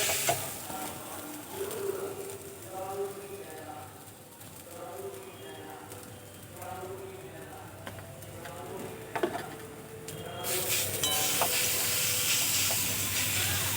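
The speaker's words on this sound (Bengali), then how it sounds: "লবণ দিয়ে বেশ কিছুক্ষণ আমি আলুগুলো কষিয়ে নিয়েছি।" Raw potatoes being stir-fried with salt in a pan give a soft, steady hiss and sizzle, with a voice talking over it and bird calls in the background.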